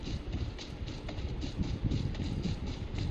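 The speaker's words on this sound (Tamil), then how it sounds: "This is a BGMI metro, not a train." A metro train in the game BGMI rolls along with a steady rumbling drone and faint clattering on top, moderately loud and continuous, with no talk.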